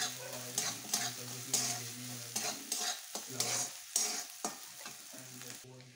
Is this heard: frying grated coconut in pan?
yes